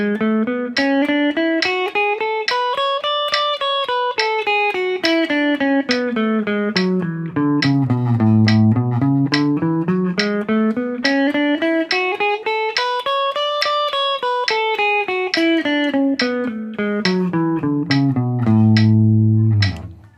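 Guitar playing a three-note-per-string scale in even triplets to a metronome, clean picked notes running up and down the neck in steady rhythm, close and alone with sharp clicks on the beats.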